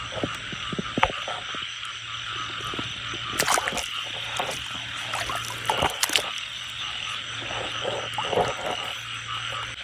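A male frog in a small patch of water near a cemetery croaks again and again in sharp, irregular bursts, over a steady background hum and a light trickle of water.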